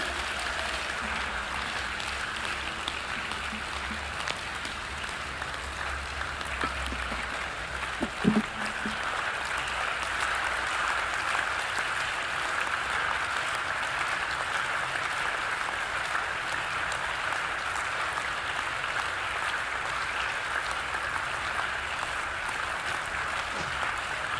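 A church congregation applauding in a long, dense wash of clapping that holds steady throughout, with a brief thump partway through and no clear speech over it.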